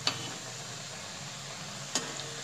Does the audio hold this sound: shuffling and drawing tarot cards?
no